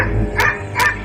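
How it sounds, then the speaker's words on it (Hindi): A dog barks twice in a Hindi horror audio story, two loud, close barks about half a second apart over a low background drone. "उसने भौंकना शुरू किया"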